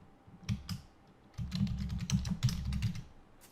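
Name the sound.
typing on a computer keyboard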